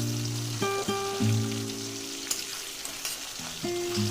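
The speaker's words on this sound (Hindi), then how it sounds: "चिकन को तेल में फ्राई करने से चिकन का जितना भी सारा फ्लेवर है वो तेल में आता है" Chicken pieces fry in oil for a restaurant-style kadai chicken, giving a constant close sizzle with sustained melodic tones that shift pitch layered over it.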